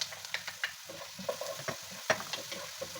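Garlic and ginger sizzling in hot oil in a pan as they are stirred, with quick close scrapes and taps of a utensil over a soft steady fry.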